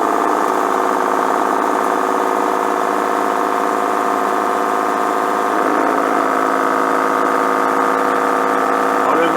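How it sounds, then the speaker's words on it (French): Cardboard rubbing beneath a running metal lathe during homemade threading-die work, a steady droning whir with tonal hum that continues for the whole stretch, loud and close. "C'est le carton qui frotte"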